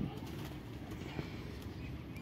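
Faint pigeon cooing from a breeders' loft, low and muffled under steady background hiss and partly masked by it, with no voices.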